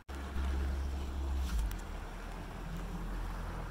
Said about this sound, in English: You can probably still hear the motor rumbling behind me.